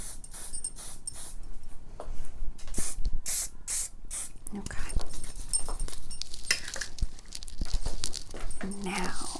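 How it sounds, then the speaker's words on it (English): Several short, sharp hisses of makeup setting spray misting in quick bursts, close by backstage, with faint rustling and handling noises between them. "A little bit more setting spray."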